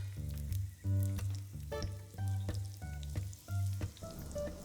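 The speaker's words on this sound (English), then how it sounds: "We will heat it all together till we see the ginger and garlic gets brown." Ginger and garlic frying together in a hot pan, a steady sizzle running throughout with a few brief clatters from stirring, close and fairly loud, no talk.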